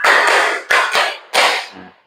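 A group claps in unison in a counted clap pattern, several sharp, loud bursts in quick succession with brief gaps between them, and no voices.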